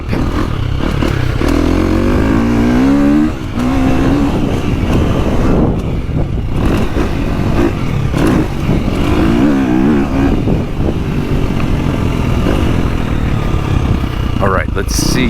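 A KTM 350 dirt bike fitted with an Akrapovic exhaust revs loud and close for a long run, its engine note rising and falling through the gears, with a few clattering knocks and scrapes mixed in.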